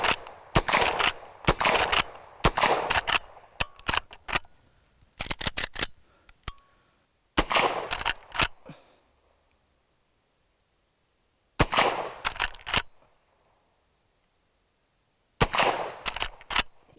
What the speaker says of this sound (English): I haven't done a rapid fire with this, so I'm going to.